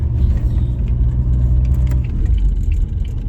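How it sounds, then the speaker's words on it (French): A car rolls along with its door open, giving a steady, close, low engine and road rumble throughout. "je roule avec la portière ouverte"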